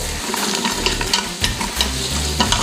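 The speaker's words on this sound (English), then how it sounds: "Stir all these around for a minute. Get some color on them." Garlic and vegetables sizzle in a hot pan while being stirred, a steady frying hiss broken by repeated scraping and clacking strokes, close and loud with no talking.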